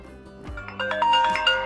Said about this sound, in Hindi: इसके साउंड्स को चेक कर लेते हैं कि इसका जो स्पीकर है वो वर्क कर भी रहा है कि नहीं